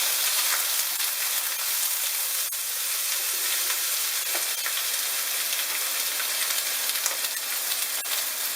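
Roast pork sizzling as it is stir fried in a pan with green beans and shrimp: a steady, loud, bright hiss of frying fat with small crackles, continuous throughout and without talk.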